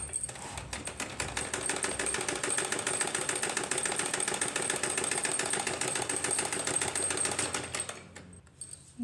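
A sewing machine stitches a zipper into a blouse, a fast, even mechanical chatter of rapid needle strokes running steadily up close before slowing and stopping near the end.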